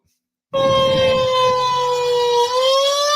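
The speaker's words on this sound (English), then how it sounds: "That's the sirens telling them it's time to get out." Loud tornado-style emergency warning sirens in the Texas Panhandle towns of Canadian and Borger begin abruptly and wail steadily with a sustained, multi-toned drone that holds without pause.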